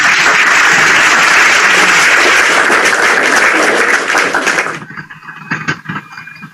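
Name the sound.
audience applause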